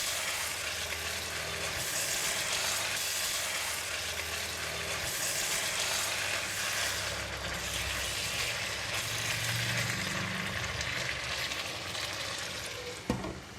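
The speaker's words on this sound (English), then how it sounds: "we need to open up and give it a stir" Luffa and minced pork stir-fry sizzles steadily and loudly in a hot pan as it is stirred, a continuous dense crackle with faint scraping beneath and no talk.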